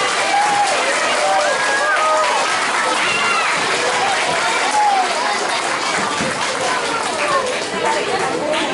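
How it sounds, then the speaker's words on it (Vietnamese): A school audience claps steadily for its teachers at an end-of-year ceremony: dense, sustained applause throughout, with scattered voices and cheers over the top. "Xin cho các thầy cô một tràng pháo tay,"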